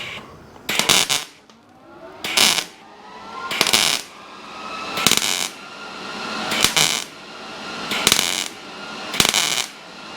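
Short crackling welding bursts lay a patch on a Camaro's body, about seven of them in a fairly even rhythm, each a second or so long and separated by quiet pauses, close and moderately loud.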